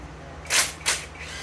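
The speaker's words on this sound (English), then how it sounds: "so we're gonna have to wrench a few of these" Two short, bright ratcheting bursts from a hand ratchet wrench loosening bolts on a 1971 Pontiac GTO body during an LS swap restomod, close and distinct, with a steady low hum underneath.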